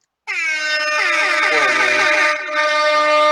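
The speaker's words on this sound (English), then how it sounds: "the air horns" A loud air horn blares in one long, harmonic-rich blast, dipping briefly before sounding again.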